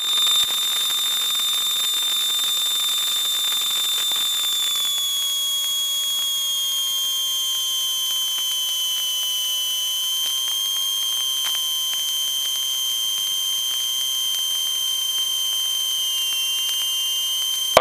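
A steady, piercing tonal aircraft engine failure warning alarm sounds continuously in a cockpit, a loud high sustained tone that shifts slightly in pitch partway through and carries on without pause.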